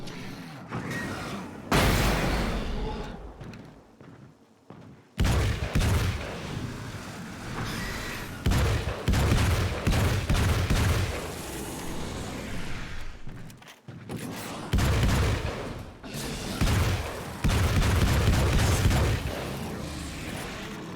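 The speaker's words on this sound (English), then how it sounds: "This gun is very good for that. Mostly because you can just pump the shit out of that. It's such a fast firing weapon" Rapid repeated gunfire from a fast-firing weapon in the Alan Wake video game, loud dense bursts of shots with booming impacts, broken by short pauses across the stretch.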